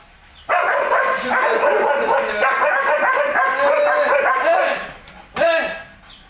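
A Belgian Malinois barks in a sustained series of loud, close yips and barks, then a short break and one more burst of barking.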